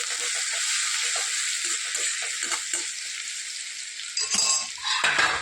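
Cumin, garlic and green chillies fry in hot oil with a steady, close sizzle that runs throughout, broken near the end by stirring and a few clinks of a utensil against the pan.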